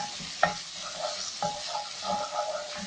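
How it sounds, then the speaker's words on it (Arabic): Grated tomato frying in a pan with garlic for a red sauce, a continuous close sizzle broken by several spoon scrapes and light knocks against the pan. "اذا نقلي مليح هذيك الطماطيش مكبره"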